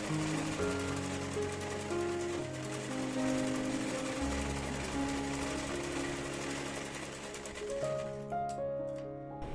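Sewing machine running steadily while stitching a one-piece party-wear frock, a continuous close mechanical whir with a steady rhythmic hum that shifts pitch partway through and stops near the end.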